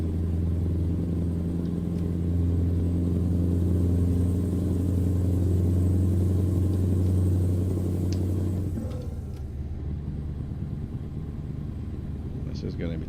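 A Scania V8 truck in American Truck Simulator, an 8x4 rig pulling a heavy load, sends out a steady deep engine rumble that drops and thins near the end while someone talks over it.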